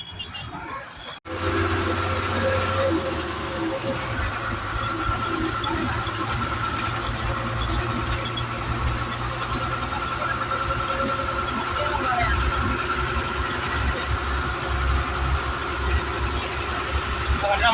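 A train stands on the Pamban bridge with its engine running, giving a loud, steady idling hum and low drone that carries on without a break, with faint murmuring in the background.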